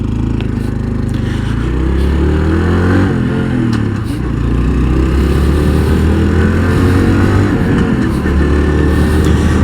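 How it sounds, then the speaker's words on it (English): A Honda CT125 motorcycle engine runs loud and steady up close on a ride, its low drone shifting in pitch as the throttle changes, with wind noise and a voice speaking over it. "Sounds like a Honda."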